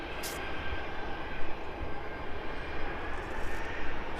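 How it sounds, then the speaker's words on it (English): Jet2 Boeing 737 airliner taxiing at an airport, a steady broadband engine rumble and whine heard from a distance, continuous and fairly loud throughout without speech. "Not very often you get to see the 737s taxiing down that end anyway."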